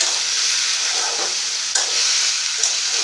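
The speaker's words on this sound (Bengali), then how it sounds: "এখন আমি ভেন্ডিটা ঢেলে দিলাম। আজকে ভেন্ডি ভাজি করব।" Okra (ladies finger) sizzles in a pan after green chillies were fried, a loud continuous hiss and crackle with occasional stirring scrapes, close and without talk.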